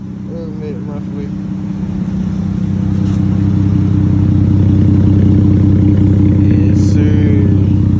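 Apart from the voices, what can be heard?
Dodge Charger 3.6L V6 exhaust with muffler delete revving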